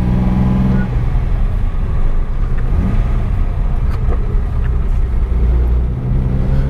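A 1961 Mercedes-Benz 220Sb W111 engine running while driving through a neighborhood, a steady loud low rumble filling the whole clip, with a voice talking over it.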